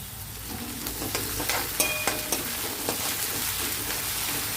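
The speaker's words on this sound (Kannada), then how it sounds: "ಇವಾಗಲೇ ನಾನು ಇದಕ್ಕೆ ಜಿಂಜರ್ ಗಾರ್ಲಿಕ್ ಪೇಸ್ಟ್ ಹಾಕ್ಕೊಳ್ತಾ ಇದ್ದೇನೆ." Ginger garlic paste sizzles and fries in a pan for palak paneer, with a steady crackling hiss and scattered stirring scrapes throughout, close and fairly loud.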